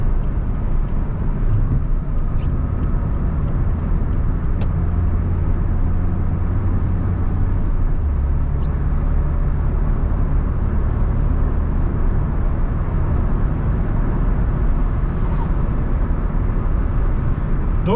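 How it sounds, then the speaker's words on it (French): A 1986 Peugeot 309 1.3 GR cruises on the road at 90 km/h. Its engine gives a steady, low drone, mixed with road and wind noise heard from inside the car and holding constant throughout. "Le moteur est assez discret, même à la phase d'accélération que j'ai fait tout à l'heure, le bruit moteur ne m'a pas dérangé."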